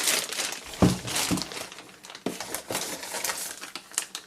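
A plastic bag holding a rifle scope crinkles and rustles in quick bursts close by, sharp crackling handling sounds coming and going with short pauses.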